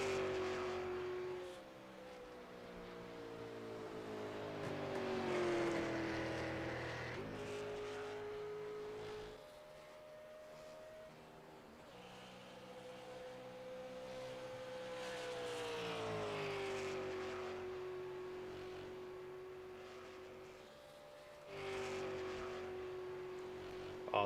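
Race cars lap turn 2, the tunnel turn, at Pocono in an NSRA qualifying session, their engines rising and falling in long revving sweeps as they approach and pass, heard from a distance with no voices.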